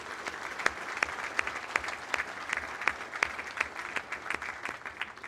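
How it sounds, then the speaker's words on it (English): Guests at an Armed Forces Day luncheon clap for the event volunteers, producing a moderate round of applause with distinct individual claps standing out in a fairly sparse, regular pattern. "let's just give them another round of applause, too"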